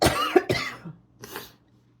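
A person coughs two quick, harsh times up close, then gives a softer cough or throat clear after a short pause. No talking.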